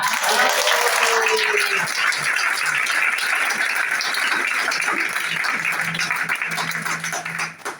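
A church congregation bursts into loud, sustained applause in praise of the Lord, a thick wash of clapping that fades slightly toward the end, with voices mixed underneath.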